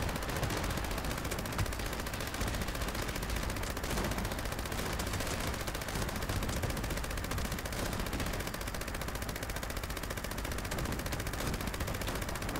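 Sustained rapid fire from a bloodied Gauss minigun in Fallout 76, a dense unbroken mechanical roar held at steady loudness throughout, with no talk over it.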